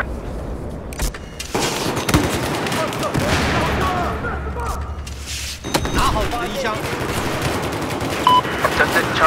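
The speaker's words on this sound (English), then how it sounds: "There's an enemy machine gunner, south of your position." Machine gun fire in a Battlefield 4 multiplayer match, dense loud bursts of rapid automatic shots with heavy booms mixed in, a brief gap partway, with players talking over the gunfire.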